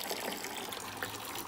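Water drains from a goldfish tank through a siphon as a steady, close gushing and splashing stream of liquid that runs without pause and with no voices.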